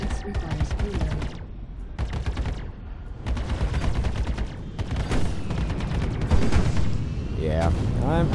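Behring ballistic repeater fire in the Star Citizen game pounds out in loud, rapid bursts with brief pauses between volleys, close and dominant, ending with a sweeping electronic tone.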